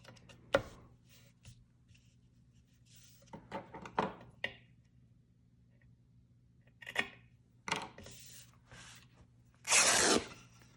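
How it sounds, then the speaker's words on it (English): Fabric is torn by hand in a quiet room, with several short, sharp ripping bursts separated by pauses and a longer, louder tear near the end. "I like ripping my fabric rather than cutting it"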